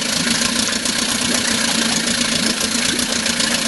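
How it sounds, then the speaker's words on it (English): All-original 1956 Scott-Atwater 7.5 HP outboard motor idling close by, a steady even putter that runs continuously on its own. "the old Scott will idle perfect"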